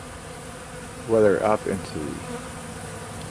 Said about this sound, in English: we have a massive amount of bee activity